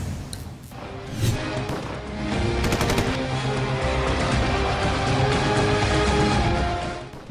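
Loud, dense bursts of gunfire and shelling along the Line of Control in news footage, rapid rattling volleys that blend into a continuous roar, with no talking.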